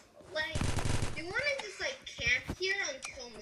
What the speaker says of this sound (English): I usually never use a minigun